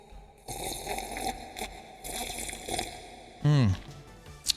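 Water being drunk into a live-stream microphone, with gulps and sloshing that echo, a pitched gurgling sweep near the end; a voice talks around the swallows.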